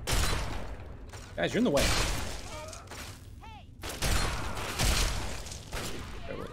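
Combat shotgun blasts in Fallout 3, several sharp broadband bursts amid busy game effects and someone talking over the action.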